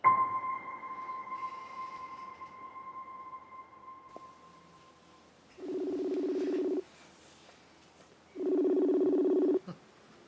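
A telephone rings in a home, two long, loud electronic ring bursts a couple of seconds apart following a quieter stretch with a steady tone.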